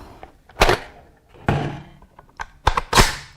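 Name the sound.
magazine dropping out of Steyr AUG rifle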